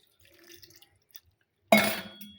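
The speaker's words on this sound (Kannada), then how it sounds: "ಬೆಲ್ಲ ತಗೊಂಡು ನೀರು ಹಾಕ್ತೀನಿ ರೀ." Water is poured into a bowl of jaggery for making mango jam: a few faint clinks, then a sudden loud splashing gush that slowly tapers off.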